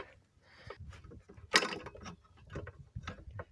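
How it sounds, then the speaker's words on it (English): A ratchet loosens a 1/4 inch bolt on a Briggs lawn mower carburetor, giving quiet, close clicking and metallic handling noises in short irregular bursts with one sharper clank midway. "So I'm just going to loosen this 1/4 inch bolt."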